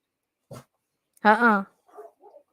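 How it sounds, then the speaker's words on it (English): A dog barks outdoors, one short yip followed by a louder drawn-out bark and a couple of fainter trailing yelps, spaced across a few seconds of otherwise quiet. "My dog outside is barking"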